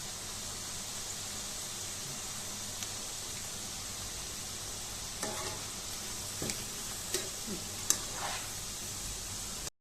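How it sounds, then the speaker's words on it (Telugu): Washed chicken pieces fry in hot oil for a pickle, giving a steady, dense sizzling hiss throughout with occasional faint crackles and stirring knocks, close and continuous. "శుభ్రంగా కడుక్కున్న చికెన్ను నూనెలో గోల్డ్ రంగు వచ్చే వరకు ఫ్రై చేసుకోవాలి"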